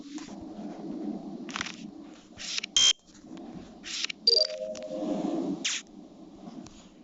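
Emergency meeting buzzer alarm in the Among Us video game, a few short sharp electronic bursts sounding over game music and background noise.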